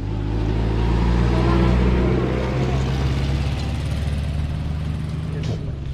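An engine drones loudly nearby and then fades as the vehicle moves away, with faint voices in the background.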